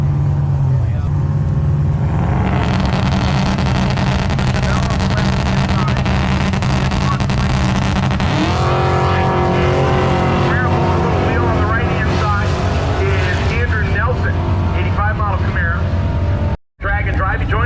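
A 1967 Chevrolet Chevelle and a third-generation Camaro drag racing at Byron Dragway, a loud sustained engine roar that swells into rising, high-revving launches and gear changes, cutting out briefly near the end.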